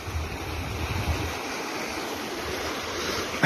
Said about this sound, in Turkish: Evet dere gayet güzel akıyor.